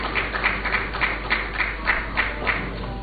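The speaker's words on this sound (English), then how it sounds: "please welcome them with a round of applause" A crowd applauds a family being welcomed at a government ceremony presenting compensation packages, steady clapping in rhythmic pulses for about three seconds.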